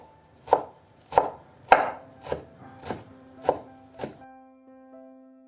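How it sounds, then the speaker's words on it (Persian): A knife finely chops two handfuls of dill on a board for a diet cucumber-yogurt dip, seven steady evenly spaced thuds close up, then the chopping stops and a quiet hum remains. "حالا 2 تا مشت شوید، اونم ریز خوردشون میکنم."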